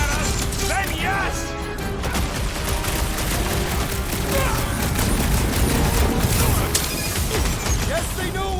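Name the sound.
gunfire from Nova Corps in Guardians of the Galaxy video game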